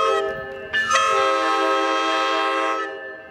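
A Metra-style coaster cab car 2301 sounds its horn in one sustained, thin multi-chord blast of about two seconds that swells, holds steady and then cuts off, with no talking over it.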